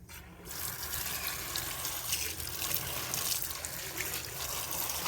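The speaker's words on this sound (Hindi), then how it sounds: "सबसे पहले सूरज मिर्च को धो लेंगे अच्छे तरीके से" Tap water runs in a steady, continuous stream while dried whole red chillies are rinsed, with close splashing and no voices.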